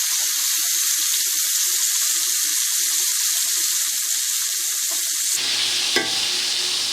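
Steak sears in a hot pan with a steady, loud sizzle and frying hiss. After a few seconds the sizzle abruptly drops away and a soft clunk follows, as when the meat is flipped.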